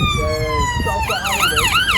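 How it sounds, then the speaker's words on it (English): An ambulance siren wails at a rally in Barbados, a steady tone shifting into a rapid rising and falling yelp, loud and near over a rumble of crowd and road noise. "There's an ambulance now."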